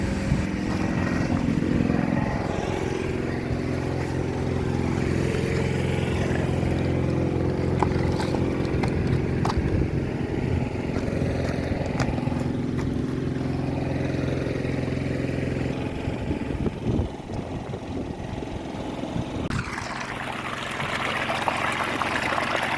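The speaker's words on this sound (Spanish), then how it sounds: "Observen nuestra bomba de 2 HP, la cantidad de agua que está suministrando." A 2 HP water pump runs with a steady motor drone while clean water gushes and splashes out of the connected pipe, loud and close. Near the end the flow sound changes to a brighter, splashier rush.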